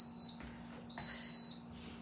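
Two high, steady electronic beeps from an Instant Pot electric pressure cooker cooking beans, each held for about half a second, with a quiet low hum underneath.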